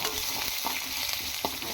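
Garlic and urad dal sizzle in hot oil with curry leaves for a South Indian tempering, a steady close crackle broken by a few sharp scraping stirs of the spoon, no voices.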